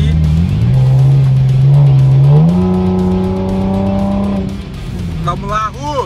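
A Chevrolet Camaro's engine revs up and holds a rising drone while driving, loud and close, with a voice cutting in near the end.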